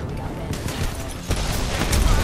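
Bursts of gunfire in Apex Legends, a few sharp shots with a heavier volley near the end, sounding under people talking.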